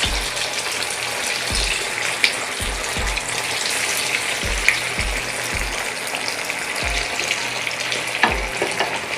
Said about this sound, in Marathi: तेल छान तापलेलं आहे तर ना बघा एक एक वडी टाकायची.